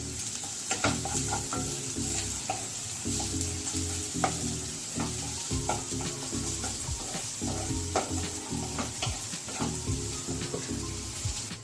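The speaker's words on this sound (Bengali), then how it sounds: "এই যে রসুনটা দিয়ে একটুখানি নেড়ে নিচ্ছি" Grated garlic stirred and sautéed in oil in a pan, a continuous sizzle broken by repeated scraping stirs and light utensil knocks, close and steady with no talking.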